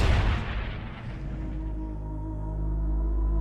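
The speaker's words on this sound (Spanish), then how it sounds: "la artillería de proa dispara la salva final" A battleship's bow artillery fires a final salvo: a heavy, close boom opens the moment, then a low rumbling roar lingers and sustains under a droning tail, with no voices present.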